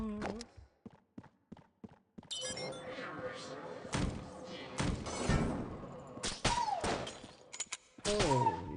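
Gunfire and bullet impacts from the video game Enter the Gungeon: a run of short sharp shots at first, then a dense burst of blasts, chimes and effects at close range, with a voice speaking intermittently.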